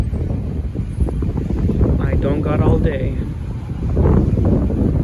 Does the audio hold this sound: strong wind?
yes